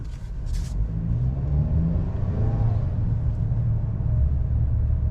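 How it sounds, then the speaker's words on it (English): 2022 Ford Maverick XLT with the 2.0-liter engine and AWD accelerating, a low steady engine rumble rising through a gear change with road noise, no talk. "It actually accelerates really good with the 2-liter."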